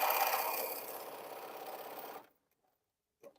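A sewing machine backstitches through a T-shirt quilt, its fast motor whir running steadily for about two seconds, then stopping abruptly, followed by silence and a faint click.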